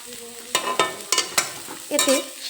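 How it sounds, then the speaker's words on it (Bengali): Radish greens fry in a pan over a low-to-medium flame under a soft sizzle, broken by several loud, sharp clatters and scrapes of stirring at an uneven rhythm, close up with no talking. "লো টু মিডিয়াম ফ্লেমে শাকটা ভেজে নেব"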